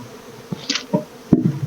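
Honey bees hum around an open Colorado hive during an inspection. Short close buzzes and a few faint knocks occur over a low, soft background.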